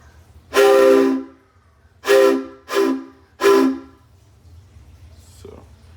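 A vintage four-chamber exhaust whistle for a Ford Model A gives four loud, chord-like train-style blasts, the first longest and the last three short and close together, then faint handling noise.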